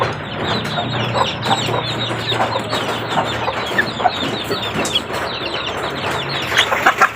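Chicks and chickens cluck and peep continuously while eating on a rainy day, a dense, close chorus of overlapping soft clucks and chirps at a fairly even level.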